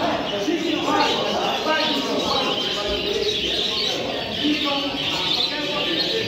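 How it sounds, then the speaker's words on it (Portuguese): Small birds chirp and tweet repeatedly against a busy background, with a voice speaking over the birdsong. "Vejam que espetáculo de passarinho"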